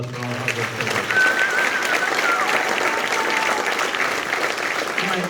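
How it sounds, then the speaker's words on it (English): Crowd applause at a junior bass fishing national championship briefing, a dense continuous clapping throughout with some cheering and voices mixed in. "So let's give them all a round of applause for all our hard work."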